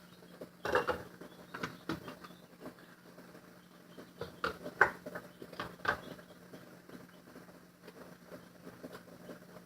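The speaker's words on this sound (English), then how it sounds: "Use the lid lifter or the jar lifter and put it in the pot." A canning jar lowered into a pot with a jar lifter while canning apples: a few faint, scattered clinks and knocks of glass against metal over a quiet background, with a slightly sharper tap midway.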